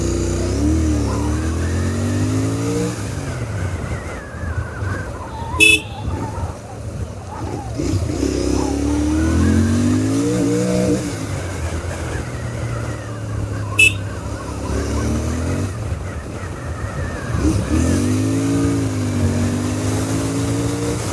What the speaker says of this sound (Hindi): इसके जो पीछे वाले जो अपने एग्जॉस्ट है ना, वहाँ से क्या गजब साउंड आ रहा है